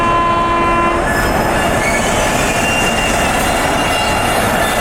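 An Indian train horn sounds the emergency chain-pulling signal, two short blasts followed by a long one, loud and close over the steady rumble of the railway carriage.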